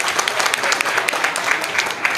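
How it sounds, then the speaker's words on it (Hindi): An audience at a function breaks into dense, continuous applause, a steady wash of many hands clapping fairly close, with a few sharper individual claps poking out. "तालियां व्हाट्सएप ग्रुप के लिए"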